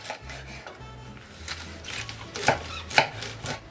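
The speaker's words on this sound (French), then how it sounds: "nous allons couper tous les légumes comme ceci en petits morceaux" A knife chops vegetables such as leeks and celery into small pieces for a chicken broth, giving a string of close, crisp cuts in an uneven rhythm with two louder strikes near the end.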